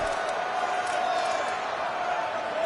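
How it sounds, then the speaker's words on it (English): A football stadium crowd in Boone, North Carolina roars on a big third down, a loud, sustained wall of cheering and whoops with no break across the moment. "This crowd in Boone, North Carolina, they are showing out on this big third down."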